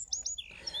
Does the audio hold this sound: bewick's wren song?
yes